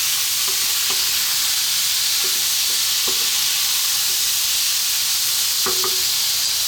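Cooked black beans tipped into a simmering Mexican-style beef stew pot, giving steady bubbling and sizzle with a few soft clicks and stirring knocks, close and continuous, with no talking.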